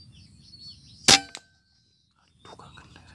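A single sharp gunshot cracks close by during a bird hunt for wandering whistling ducks, followed by a brief echo tail, then near silence and faint outdoor sounds.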